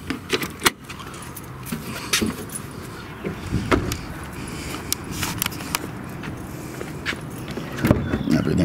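Metallic keys jingle and clink in short irregular bursts, close by, mixed with handling noises and a low background rumble, beside a supercharged Buick Riviera.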